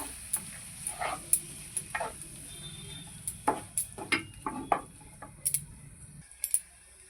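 Banana flower dal is stirred and sautéed in a pan, a low sizzle running under irregular scraping and tapping of a spoon against the cookware.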